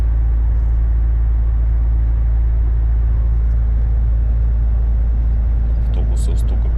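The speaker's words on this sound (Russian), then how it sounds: "Автобусов столько кучкуется здесь." Buses and other vehicles idle at a parking lot by the Zabaikalsk–Manzhouli border crossing, a steady deep engine rumble throughout, with a brief higher clatter near the end.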